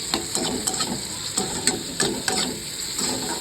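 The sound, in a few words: spiced dal and spinach masala being sautéed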